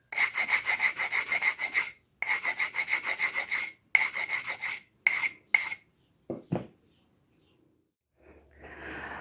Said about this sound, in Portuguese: Aqui eu já lixei, pessoal, com lixa 60